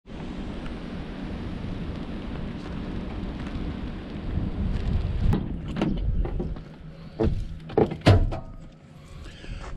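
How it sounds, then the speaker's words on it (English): Steady rain falls outdoors on a ranch, a dense continuous wash that runs throughout. Heavier thumps and gusty bursts break in during the second half, close to the listener. "The rain is hitting me in the face."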